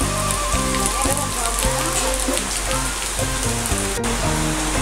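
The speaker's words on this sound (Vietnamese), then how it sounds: "Đây trời mưa rồi," Rain falls steadily in the Mekong Delta countryside, a dense constant hiss of drops on surfaces, loud and close, with music playing underneath.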